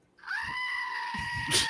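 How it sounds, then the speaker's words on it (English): A goat lets out one long, loud, wavering bleat close by, starting abruptly and holding for over a second, with some low background rustling underneath. "It sounded like my goat."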